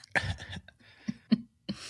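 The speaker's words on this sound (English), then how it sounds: "Did you cough right there?" A few short, sharp bursts like a cough or throat clear, with quiet gaps between them, fairly close and moderately loud.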